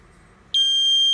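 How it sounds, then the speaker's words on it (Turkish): A loud, piercing electronic smoke detector alarm, set off by its test button, begins abruptly partway through and holds steady and shrill after a brief quiet hum. "Duman dedektörünün test düğmesine basıyoruz."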